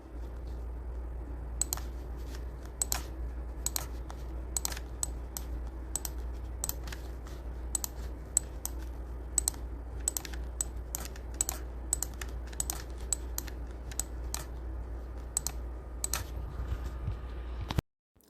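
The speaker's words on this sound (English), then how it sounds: "you guys are going to be able to hear me clicking for just a little bit" Dense, steady tapping of a computer keyboard and mouse clicks while playing Doomsday: Last Survivors, close and crisp over a low hum, with no talking.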